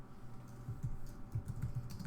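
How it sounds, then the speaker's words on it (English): Typing on calculator keys during a statistics probability calculation, a run of soft, quick key clicks in an irregular rhythm, close and fairly quiet, with no talking. "so let's continue our typing"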